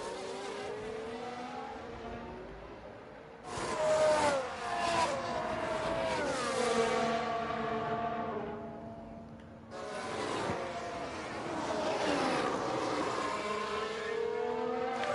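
F1 race cars at full power in F1 Manager 22 scream past with high whining engines, several cars in surges with rising and falling pitch and a couple of louder close passes.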